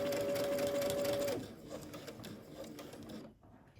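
A sewing machine runs steadily for just over a second, stitching dress fabric with a 5/8 inch seam allowance, then cuts off and leaves quieter handling and rustling sounds.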